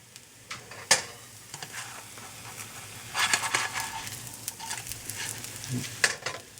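A hash brown sizzles in an oiled pan right after being flipped, a quiet crackling fry with scattered pops and a few scraping spatula touches, close and steady with no voices.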